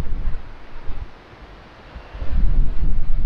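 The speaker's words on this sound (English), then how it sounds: "I hope this wind dies down." Strong wind by Ricker Pond in New England buffets the microphone in low gusty rumbles, easing briefly midway before surging loud again, with no talk.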